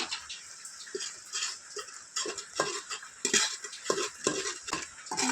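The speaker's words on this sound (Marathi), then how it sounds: "चांगला हलवू द्या" Spinach masala rice being stirred in a pot, with repeated scraping and clinking of a spoon against metal in an uneven rhythm over a light sizzle.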